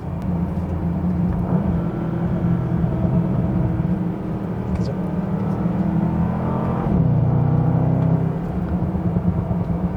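A Bentley Continental GT coupe's engine rumbles steadily at close range, with a surge in revs midway and faint real mechanical crackles from the exhaust.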